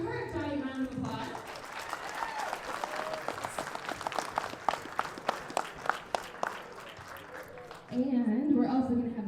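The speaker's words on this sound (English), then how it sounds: "so let's give her a giant round of applause" Audience applause at a live wrestling show, a few seconds of scattered, fairly faint clapping between stretches of a voice over a loudspeaker.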